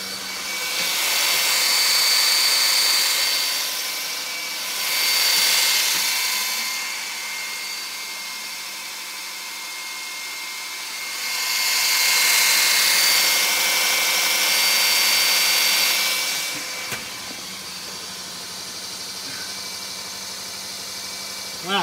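A mobile fuel pump for tractors, plant and trucks runs with a loud, steady motorised whine and hiss, swelling and easing in long waves, close by, with no talking.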